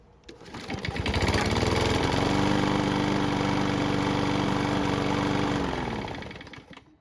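A walk-behind lawn mower engine, restarted while hot after about ten minutes of running, spins up within a second and holds a steady, buzzy mid-pitched drone before winding down near the end.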